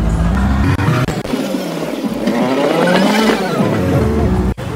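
Road and engine noise inside a moving auto rickshaw leaving a village fair in Panvel, a steady loud rumble with brief clicks and bumps, no talk.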